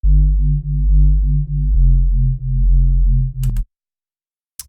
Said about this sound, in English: So the Reese bass, let's solo it out.